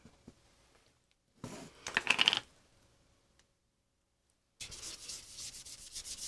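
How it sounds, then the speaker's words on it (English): An ink blending tool scribbles ink onto a paper card for a Dylusions paint craft project, giving short bursts of dry, scratchy rubbing separated by quiet gaps, with no talking. "I'm just scribbling it on to start with one of the ink blending tools."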